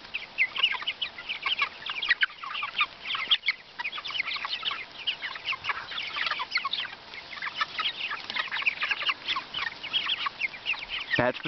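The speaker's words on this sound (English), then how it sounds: "That's the sound of happy chickens tearing up pasture" A flock of chickens in a moving pasture pen on a farm clucks and chatters nonstop while foraging on grass, a dense, fairly faint cluster of overlapping calls.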